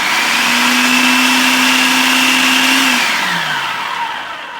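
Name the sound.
food processor blending tomatillos and garlic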